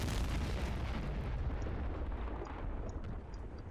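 A tank destroyed in the wargame Combat Mission, a heavy rumbling explosion that roars loudly at first and slowly fades, with scattered crackles and a few faint distant pops near the end.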